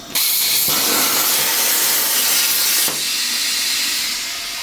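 A Crossfire Pro CNC plasma table cuts steel circles for go-kart intake goggles, making a loud, steady hissing roar that holds for several seconds, breaks sharply, then continues slightly quieter before tapering off.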